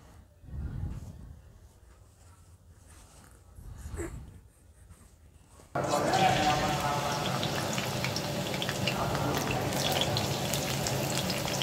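Chopped onions drop into hot oil in a wok and break into a loud, dense, continuous sizzle after a quieter stretch with faint handling sounds.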